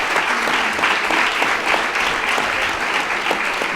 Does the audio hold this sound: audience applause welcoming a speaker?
yes